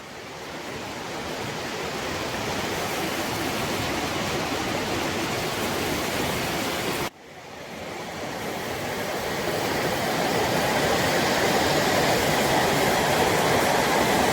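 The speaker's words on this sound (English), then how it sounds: "It's pouring outside, and I absolutely love just watching the rain." Heavy rain pours outside a home in Kerala, a dense, loud, continuous hiss with a brief break midway before the downpour resumes just as strongly.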